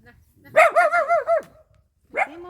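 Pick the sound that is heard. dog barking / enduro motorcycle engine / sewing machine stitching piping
dog barking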